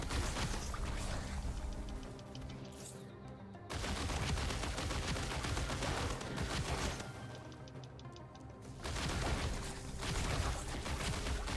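Sustained automatic gunfire in the Voidling Bound video game, loud continuous rattling bursts that break off briefly twice before resuming, with no talking.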